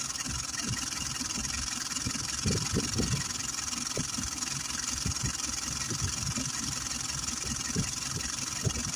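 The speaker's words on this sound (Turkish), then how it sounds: "Aracımızın kasnağı gayet güzel bir şekilde çalışıyor." Repaired car engine idles steadily after a steering pump fix, the pulley turning with a continuous low rumble and faint irregular rubbing ticks, with no talk over it.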